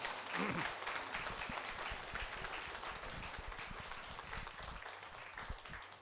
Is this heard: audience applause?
yes